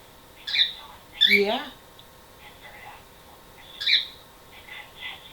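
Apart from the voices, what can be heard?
pet bird vocalizing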